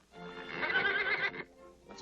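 Excited horse fighting its bit gives one loud, shaky whinny lasting about a second, then falls quiet before a faint trailing snort.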